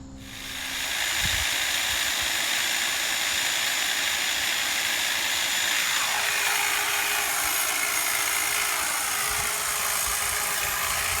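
A motorized hedge trimmer cuts into the top of a tall bush, its steady high-pitched buzzing whine starting within the first second and running loud and continuous throughout, with no talking.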